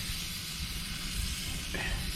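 Chicken fajitas sizzle on a BBQ grill, a steady broadband hiss that fills the clip at moderate level, with a brief brighter flare of sizzle near the end and no talk.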